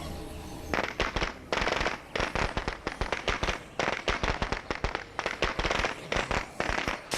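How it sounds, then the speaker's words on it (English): Firecracker bursts in the video game State of Decay 2, rapid sharp cracks and pops in dense irregular volleys, loud and close, crackling almost continuously for several seconds. "Let's just get a firecracker here."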